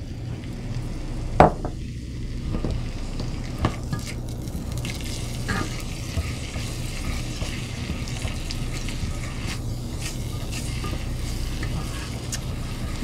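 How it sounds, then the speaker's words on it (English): Diced onion and garlic simmer in a pan with a soft, steady sizzle, broken by a few brief clinks and stirring sounds near the start. "a half a cup of diced onion, and I'm going to put that in along with about a clove of garlic. And you're going to let that simmer"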